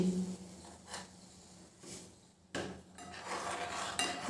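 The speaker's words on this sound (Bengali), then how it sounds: "দিয়ে ভালো করে নাড়াচাড়া করে দিচ্ছি" Crushed leaves being stirred into water in a metal pot, with scraping and clinking of the spoon against the pot in irregular bursts, fairly quiet and close, no voices.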